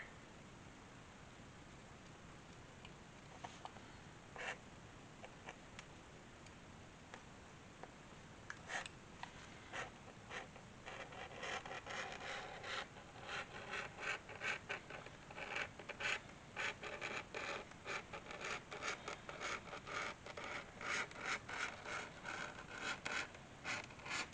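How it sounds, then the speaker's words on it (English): Leather being cut by hand with a blade for a raccoon-face utility bag, a soft rasping scrape that starts sparse and grows into steady, repeated close strokes. "if you're cutting leather by hand like this"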